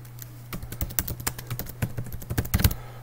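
A name is typed into a mobile app, the taps coming as a quick, irregular patter of light keypresses up close over a faint steady hum, with no voices.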